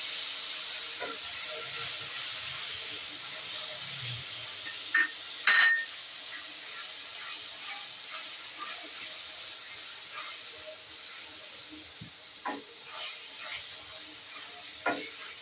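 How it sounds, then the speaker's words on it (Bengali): A spice paste for a bean dish sautés in oil, giving a faint, steady sizzle and hiss with scattered clicks and scrapes from stirring throughout. "আমি এখন এই মশলাটা এখানে কষিয়ে নেব।"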